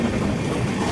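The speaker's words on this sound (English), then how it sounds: "this is our vehicle, this is our toy, this is our train" Passenger train bound for Goa, a loud, steady rumbling roar of the moving carriages heard close up, without any voices.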